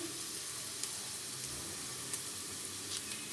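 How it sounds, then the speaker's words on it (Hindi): Onions frying until brown for mutton biryani produce a continuous close sizzle with occasional faint stirring clicks, heard alone without any voice. "अभी हम जो है प्याज ब्राउन करेंगे"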